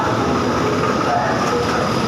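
Express train 107, pulled by an Alstom CC16 locomotive, rolling into Chum Saeng railway station: a loud, steady, close rumble of wheels and engine with faint squeals from the rails.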